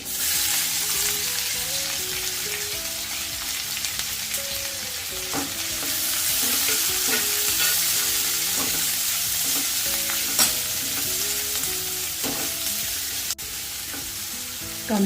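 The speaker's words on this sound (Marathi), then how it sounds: "दोन मोठे कांदे चिरून घेतलेत हे घालते" Two large chopped onions fry in a pan for a Maharashtrian chivai leafy-vegetable bhaji, a loud, steady sizzle with repeated scraping stirs throughout and faint background music, no speech.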